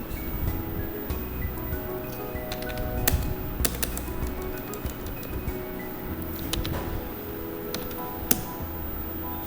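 Computer keyboard keys pressed while working in Tally accounting software, a steady run of light clicks and taps at varying pace over a faint sustained background tone.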